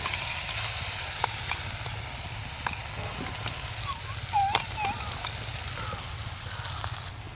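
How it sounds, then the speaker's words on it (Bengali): Green pea paste sizzles in hot oil in a kadai, a soft, steady frying hiss that runs throughout with a few faint clinks and scrapes. "তো এবার আমি কড়াইশুটির পেস্ট দিয়ে দিচ্ছি"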